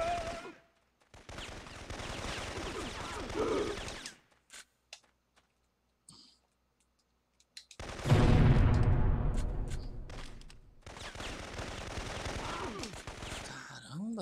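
Gunfire in the video game Syphon Filter arrives as rapid automatic bursts, loud and close, in separate volleys with near silence between them, one longer heavy burst in the middle and someone speaking during parts of it.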